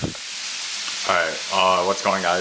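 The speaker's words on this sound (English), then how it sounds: "You can probably hear that everything's cooking right now." Chicken and beef fry in pans with a steady hiss and sizzle, while someone talks briefly over the cooking sound.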